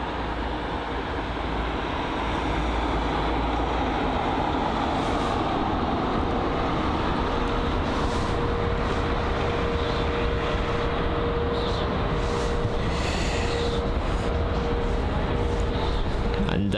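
An airliner rolls out on the runway at London Heathrow after touchdown, a loud, steady broadband rumble of engines and wheels that persists throughout with a faint high whine and no voices.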